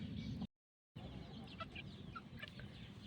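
A rooster and young chickens on a Punjabi farm cluck in short, scattered calls at moderate distance, with a brief dropout near the start and no talk.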